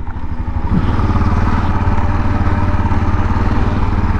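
A Yamaha XT 660 single-cylinder motorcycle engine runs close by during a test ride, a steady low chugging throb that rises slightly after a brief start, with no talk.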